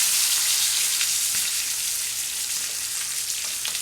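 Food sears in a hot pan of oil and butter, a steady bright sizzle with light crackles and pops, close and continuous, without talk.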